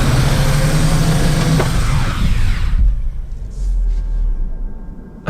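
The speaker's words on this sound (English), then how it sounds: "So we're getting a lot of wheel spin" A Toyota Corolla Cross Hybrid on a slip-test rig, two wheels losing traction, gives a loud steady rumble of spinning tires and drivetrain that drops off sharply near the middle and then continues more softly.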